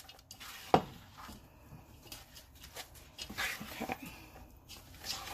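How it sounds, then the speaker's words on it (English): A spoon stirring rice, bacon and sautéed vegetables in a pan, soft irregular scrapes and clinks against the metal with one sharper knock near the start, faint and close. "Let me first stir this."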